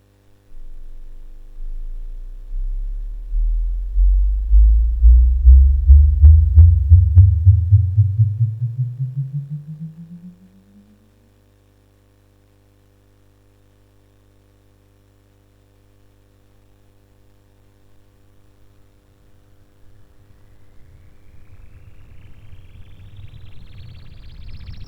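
Synthesized tone with its harmonics filtered to cut aliasing noise: a clean pure tone sweeps steadily upward in pitch for about ten seconds, swelling loud then fading out, followed by a faint steady hum and rising hiss.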